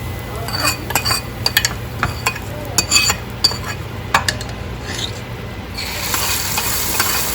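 Onions sautéing in a pan for chicken biryani: a steady close sizzle with repeated sharp metallic clinks and scrapes of a stirring utensil against the pan, ending in a louder, brighter hiss.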